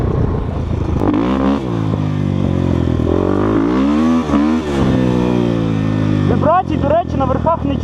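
A KOVI Advance 250 motorcycle from 2023 revving close by, its engine and exhaust rising and falling in several swells with a steady idle roar between them, under brief talk.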